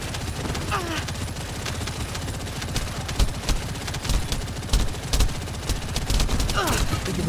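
Sustained rapid gunfire crackles from a gun in The First Descendant, loud continuous bursts with scattered heavier impacts, close and dominant, with no voices over it.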